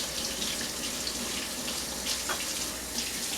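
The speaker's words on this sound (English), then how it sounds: "Now, I want to just wash my hand here quickly." Tap water runs steadily into a kitchen sink while hands are washed, a soft continuous splashing hiss heard close up with no talking.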